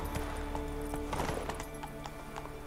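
Horse in The Witcher 3 giving quick, clattering hoof clops in an uneven burst, with a faint whinny-like cry mixed into a dense, noisy game backdrop, fairly close.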